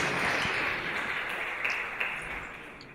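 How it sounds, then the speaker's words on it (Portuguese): Audience applause at a talk event welcoming Hugo Figueiredo, a moderate, even patter of clapping heard from a distance in a reverberant hall, gradually fading. "Uma salva de palmas para o Hugo, por favor."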